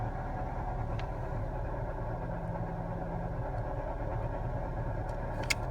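A Nissan 200SX B14 with a GA16DE engine on Megasquirt tuning idles at about 1,000 rpm with its idle screw set. The hum is low and steady, close and unbroken, with a few faint ticks.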